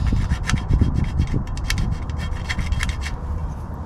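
A metal file works a burr off the cut end of metal dog fence tubing, making close, loud, rapid rasping strokes in a steady rhythm with no talking.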